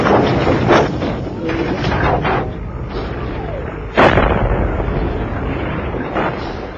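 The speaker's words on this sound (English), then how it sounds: "a 50-minute artillery barrage began." Artillery barrage in a war documentary, a dense rumble of distant fire with a few sharper booms standing out, one especially loud blast partway through.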